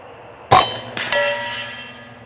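A .25 caliber PCP air rifle fires at a target 100 yards away: a sharp loud crack, then a fainter distant impact about half a second later, with a ringing tail that fades.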